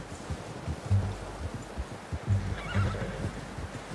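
A horse whinnies twice in Red Dead Redemption 2 over a steady low rumble, with soft hoof clip-clops and rustling in the background.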